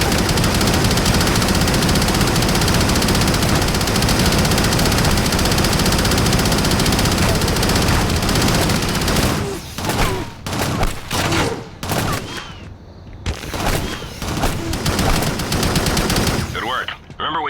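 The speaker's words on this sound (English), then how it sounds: "Use your minigun to kill all the enemies." A minigun fires at enemies in the Shadowrun video game: a long, loud, unbroken roar of rapid gunfire, then several choppy bursts with short gaps between them.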